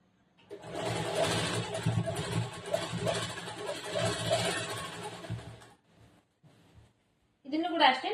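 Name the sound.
sewing machine stitching folded hem of churidar top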